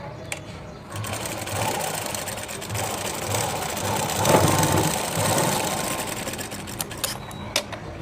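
A sewing machine stitches the side seam of a blouse, a steady close mechanical whirring and rapid needle clatter running throughout, with a few small clicks near the end.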